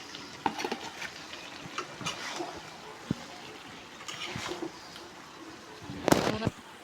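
A rui fish head goes into a pan of cooking papaya and potato, bringing irregular crackling spatters and stirring clatter over a low sizzle, with a loud burst of popping near the end.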